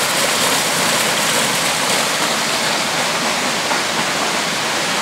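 Water rushes through the water change system at a koi farm, a loud, dense and continuous splashing flow that holds steady from start to finish with no other sounds.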